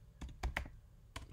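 Quiet, close keystrokes on a computer keyboard: a quick run of four or five taps, a short gap, then one more key press.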